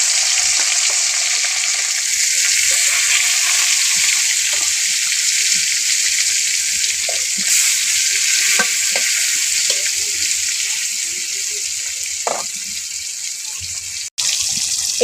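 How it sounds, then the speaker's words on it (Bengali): Fish pieces fry in hot oil with a loud, constant hiss that stays dense and even throughout, broken by a few small clicks and a sharp knock near the end. "তেলটা গরম হয়ে গেলে মাছগুলো দিলাম।"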